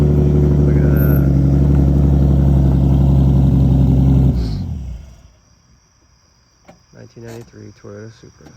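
A 1993 Toyota Supra MKIV engine runs loud and close with a deep, steady rumble for about four seconds, then cuts off and fades into quiet, followed by a few short, faint voiced sounds.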